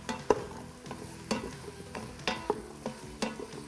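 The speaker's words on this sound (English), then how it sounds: "So once our potatoes are in, I'm just going to stir it around a little bit." Potatoes stirred in an Instant Pot, with about five rhythmic scraping strokes of a utensil against the pot over a faint sizzle, close and clear, no voices.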